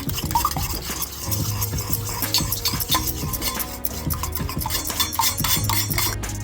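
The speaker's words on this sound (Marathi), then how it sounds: "पूर्ण फेटून घ्यायचं अंड मीठ फेटून घ्यायचं चांगलं फेटलं पाहिजे" Eggs with salt are whisked briskly in a bowl, rapid rhythmic clinking and tapping of utensil against the dish, close and continuous.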